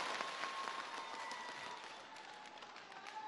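A studio audience at a televised singing competition final claps for a singer, a steady, moderately loud round of applause that gradually thins out, with no talk.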